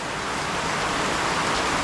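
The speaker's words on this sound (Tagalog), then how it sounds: "Malakas na yung ulan." Heavy typhoon rain pours down as a dense, steady roar of falling water, loud and unbroken throughout.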